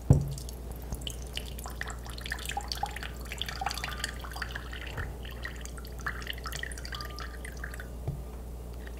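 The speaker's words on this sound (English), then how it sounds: "So I'm gonna add some water to this dirt. It needs a lot of water because this dirt is really dry." Water drips and trickles as it is poured onto dry potting soil and leaks from a container, a faint irregular run of small drops and splashes in a quiet indoor room.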